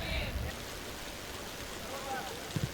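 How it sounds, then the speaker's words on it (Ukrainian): Heavy rain falling during a Ukrainian Cup football match at Bucha, a steady broadband hiss filling the whole clip with a few faint thumps near the end. "Якраз дощ посилився у Бучі."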